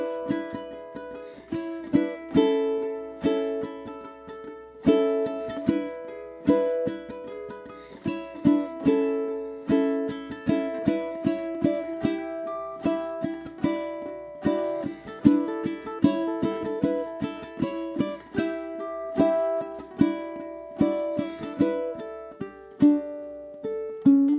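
A ukulele plays the B melody of an open-chord strumming etude, steady rhythmic strums carrying a bright melody, close and clear with no talking.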